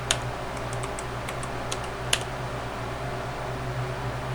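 Computer keyboard pressed sporadically for a shortcut in a terminal text editor, a handful of light isolated clicks over a steady fan hum and room noise.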